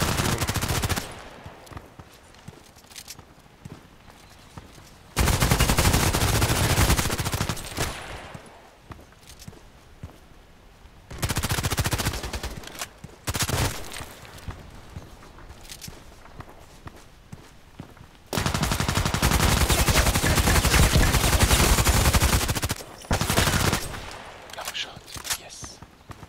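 Loud, sustained bursts of rapid gunfire in a sniper video game alternate with quieter stretches of scattered shots and footsteps. The firing returns in long, dense volleys.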